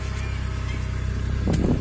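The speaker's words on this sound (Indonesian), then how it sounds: "Kalian bisa gas di RPM 2000 ke atas." A car engine revved above 2000 RPM rumbles steadily at close range, then swells briefly louder toward the end as the throttle opens, with no talk.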